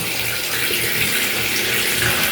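Water pours in a steady, loud gush from a tap or hose, added while washing during flower planting. The broad rushing stream runs on without a break, and no one speaks.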